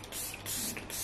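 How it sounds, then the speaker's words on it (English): A drugstore makeup setting spray releases a fine mist in three quick hissing spritzes, close and fairly soft, with no talking. "It's a really fine mist"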